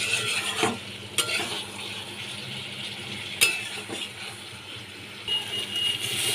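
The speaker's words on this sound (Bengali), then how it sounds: "ডিম আর আলুগুলো দিয়ে ভালো করে এইভাবে কষিয়ে নিতে হবে।" Eggs and potatoes sautéed in a pan for egg curry, a steady soft sizzle with scraping stir strokes and a few sharp clinks of the utensil against the pan, fairly close.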